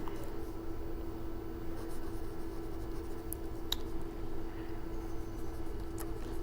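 A pen scratches steadily across paper while an accounting entry is written, a close, continuous scribbling over a low steady hum.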